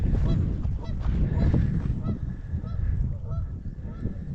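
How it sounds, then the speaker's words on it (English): Geese honk repeatedly out in a farm cornfield in autumn, a flock calling back and forth at a middle distance over steady outdoor background noise, with no talking. "There's some geese out there."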